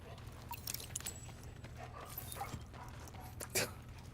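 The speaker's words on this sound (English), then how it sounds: "Oh, that's why I hear a dog. Because there's a dog in" Dog barking and whimpering inside a building in the video game The Division, faint and intermittent under steady low game ambience.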